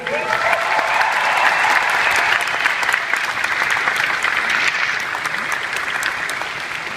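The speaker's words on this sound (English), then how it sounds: "So a big round of applause for Russell, I think." An audience at a Regenerations fan panel applauds Russell, a steady, full wash of clapping from a sizeable crowd that holds loud for several seconds before easing slightly.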